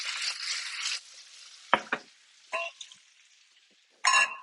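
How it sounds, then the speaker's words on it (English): Mushrooms and gnocchi drop into a pan and start to fry, with an opening burst of sizzle, then quieter spells broken by sharp clatters and short sizzling bursts as the mix is stirred. "I'm going to put the mushrooms in first and the gnocchi right behind it."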